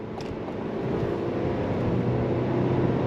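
2026 Buick Enclave Avenir engine accelerating uphill on throttle through its 8-speed transmission, a steady, loud, rising cabin drone heard from inside the luxury SUV, no talk.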